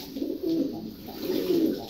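A pet bird coos softly in a low, repeated pattern, two drawn-out coos close by with steady background hiss and no voices.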